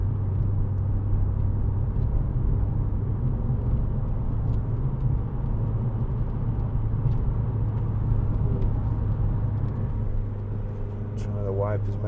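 A 2010 Renault Clio Renaultsport 2.0 VVT three-door hatchback accelerates on a motorway to overtake, with a steady engine drone and road rumble heard from inside the cabin throughout.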